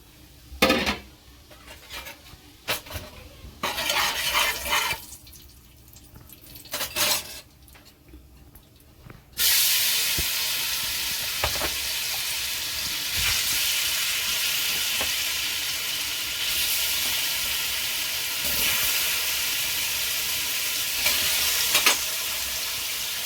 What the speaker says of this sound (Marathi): आता आपण पनीर थोडे फ्राय करून घेतो